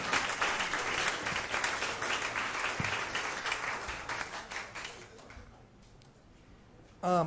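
Audience applause after a rope magic trick at a magic night show, steady clapping that thins and fades toward the end before a brief louder sound at the close.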